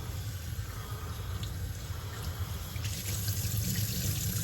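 Traxxas Maxx V2 tire foam soaking in muddy water and being squished by hand, giving a steady wet sloshing and gurgling with no talk, the splashing growing a little louder toward the end.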